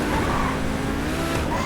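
A car in GTA 5 speeds along and skids, with a loud, steady engine roar and tire noise that runs throughout without a break.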